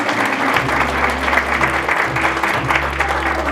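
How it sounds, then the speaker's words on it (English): An audience at a school district awards ceremony claps steadily for a few seconds, a continuous even patter of hands with a low hum underneath. "Another round of applause for Ms. Perkins"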